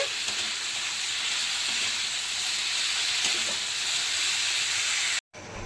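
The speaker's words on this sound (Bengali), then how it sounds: "এবার সাদা আলুর তরকারি বসিয়েছি কাঁচা লঙ্কার কালো জিরে ফোড়ন দিয়ে" Potatoes for a curry frying in a pan with green chilies and a nigella seed tempering, giving a steady, close sizzle and hiss that runs unbroken and ends with a brief cutoff.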